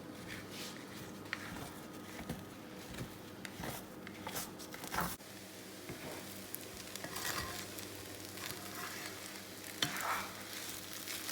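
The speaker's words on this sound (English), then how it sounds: "just start shredding it up and continue frying it as you go along" Steady oil sizzle and crackle of shredded Kaiserschmarrn pancake frying in a pan, with occasional scraping and stirring sounds throughout.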